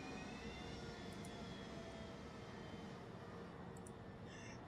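A large passenger plane in Airport Strategy & Tactics drones with a faint, steady engine roar and a thin whine, continuous and distant-sounding throughout.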